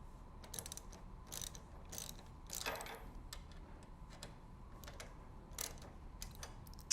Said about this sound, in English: move the scissor link up, tighten it back up